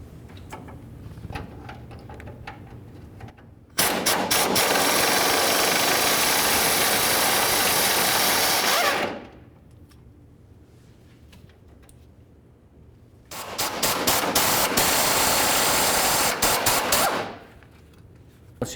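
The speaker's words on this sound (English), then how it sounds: "Now let's move along to removing our upper bolts." A power tool runs on the rear shock upper bolts of a 1994-2004 Chevy S-10, in two loud, sustained bursts of roughly five seconds each, separated by a quieter pause of low background noise.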